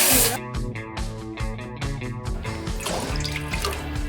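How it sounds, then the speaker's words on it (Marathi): Water splashes and gurgles in a steady stream into a metal cooking pot for boiling pasta, with a clattering, ringing edge throughout. "पातेल्यामध्ये पाणी"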